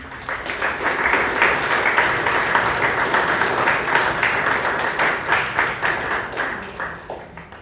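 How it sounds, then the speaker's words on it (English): An audience at a Toastmasters club meeting in Bangalore breaks into a big round of applause: dense, steady clapping from many hands that holds at full strength, then thins into scattered claps near the end. "So let's have a big round of applause before we start this session."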